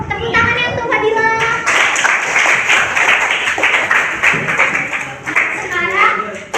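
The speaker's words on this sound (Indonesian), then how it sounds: "Nah, tepuk tangan ya untuk Fadila." Classmates clap for a student after her biology presentation on prokaryotic cells, a scattered round of hand claps in a classroom with young voices talking over and around it, tapering and then picking up again.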